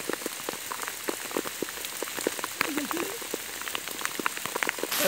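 Rain falls steadily on a mountain trail on Mount Merbabu via the Suwanting route, making a dense pattering hiss with close, irregular drops striking nearby surfaces and no talking.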